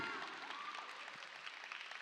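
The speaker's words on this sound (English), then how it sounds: "Let's give Rio Cheatham a round of applause" Graduation audience at a Baltimore City public school ceremony applauding the valedictorian, a quiet, distant wash of many hands clapping, steady over about two seconds, with faint crowd murmur beneath.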